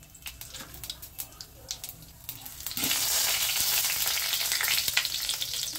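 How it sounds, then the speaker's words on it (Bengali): Two bay leaves and half a teaspoon of white cumin dropped into hot mustard oil, starting with scattered crackles and pops, then erupting into a loud, steady sizzle that holds to the end. "এতে আমি 2টো তেজপাতা ফোড়নে দিয়ে দিচ্ছি। আর দিচ্ছি হাফ চা চামচ সাদা জিরে।"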